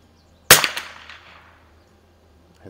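One sharp rifle shot from a Savage MKII at a shooting range cracks out close and loud, then rings off in a decaying echo into quiet.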